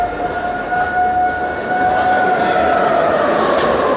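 A civil defense siren sounds across the country during a nationwide mock drill, its loud, steady wail holding a sustained tone that fills the whole stretch without break.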